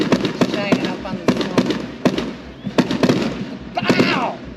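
Fireworks at a small-town car show and semi parade in Morley, sharp nearby bursts and crackles in quick succession, with whistling trails rising between pops while people chatter and exclaim throughout.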